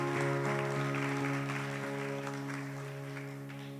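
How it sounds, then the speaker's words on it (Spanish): Faint congregational applause during a church service, a soft wash of clapping beneath sustained keyboard chords that fades gradually toward the end. "¿le puedes dar un fuerte aplauso de alabanza a nuestro Dios?"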